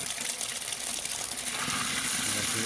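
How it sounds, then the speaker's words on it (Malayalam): Water gushes steadily into a bucket, a continuous splashing rush at even, close volume with no break. "ഇതിൽ വെള്ളം നിറ നിറച്ച് വെക്കണം"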